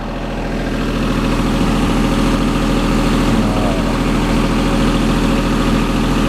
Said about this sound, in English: Tractor run perfect.